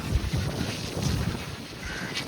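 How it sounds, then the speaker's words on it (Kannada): Strong wind gusts across an open outdoor spot, producing a steady roaring rumble of wind buffeting the microphone with no speech. "ಗಾಳಿ ಎಷ್ಟು ಜೋರಾಗಿ ಬೀಸ್ತೈತೆ"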